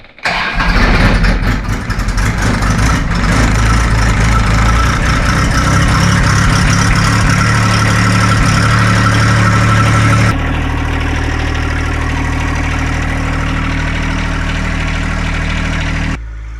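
A John Deere tractor's diesel engine, glow plugs warmed on a cold winter day, cranks and catches, then settles into a loud, steady idle close by with a deep low rumble.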